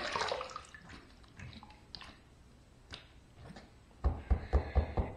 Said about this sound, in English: Second pass done, let's rinse.